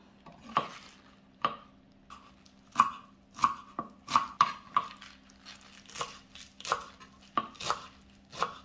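Spinach is chopped with a knife on a cutting board. A steady series of crisp, close knocks sounds alone, in irregular bursts, with a faint background hum.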